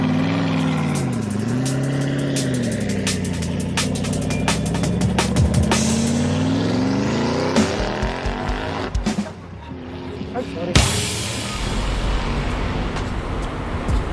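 Engine drone of a vehicle heard from the front seat on a Manila ride, a steady rumble with rising and falling revs as it shifts and accelerates, plus traffic noise and some muffled talk.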